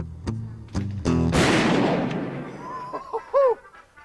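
A single loud gunshot rings out during an armed shop robbery, following a few short tonal beeps, with a sharp blast that decays over about a second before brief voices are heard.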